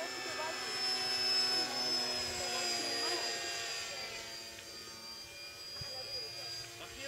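A small model aeroplane flies outdoors at sunset, its engine giving off a steady high whine that drones on without a break and shifts slightly in pitch.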